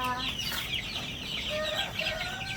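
Young chicks on a small farm cluck and peep in quick overlapping calls, close and fairly clear, with a continuous low rustle underneath and no talk.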